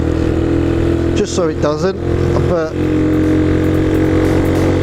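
A Velocette Venom motorcycle engine idling with its idle screw set low, a steady loud drone running throughout while someone talks briefly over it.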